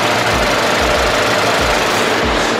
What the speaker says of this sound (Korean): 제가 밖으로 나가서 엔진 소음 한번 담아보도록 하겠습니다